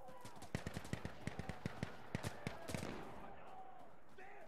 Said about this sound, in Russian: Что за стрельба?